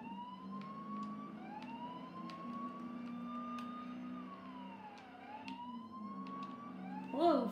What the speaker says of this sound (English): There goes the siren again.